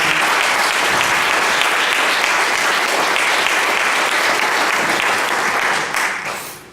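An audience at a community opiate forum applauds, dense sustained clapping that stays loud and even for most of the moment before tapering off at the end.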